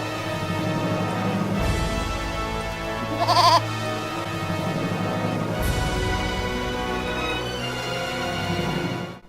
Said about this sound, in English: The gang tries to convince a trio of goats to get off the bridge.